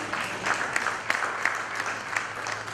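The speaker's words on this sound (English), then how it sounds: "Another round of applause, ladies and gentlemen." Audience applause at a PechaKucha-style evening session of a marketing technology conference, a dense, steady patter of many hands clapping throughout, moderately quiet and with no talk over it.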